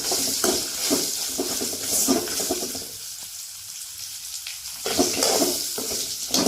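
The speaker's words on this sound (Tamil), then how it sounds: "நம்ம வச்சிருக்க பாவக்காய் இதில் போட்டுடலாம். நல்லா வதங்கணும்." Bitter gourd sautéing in a pan for a thokku gives a close, hissing sizzle that softens for a moment midway, then surges back up.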